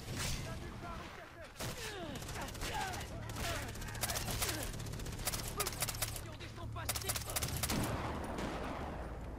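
Sniper and rifle gunfire in the shooter game Far Cry 3, sharp shots cracking in dense bursts throughout, with someone talking over parts of the action.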